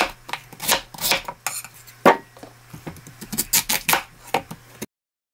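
A knife chops a radish into big chunks on a wooden board, a quick run of crisp, close knocks in uneven bursts with short pauses, alone without talk and ending in silence.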